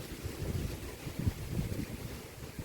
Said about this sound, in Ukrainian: у нас вітер такий зірвався